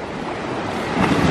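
Waves break and wash continuously on Covas beach in Brazil, a loud, close, unbroken roar of surf mixed with wind buffeting, swelling slightly toward the end.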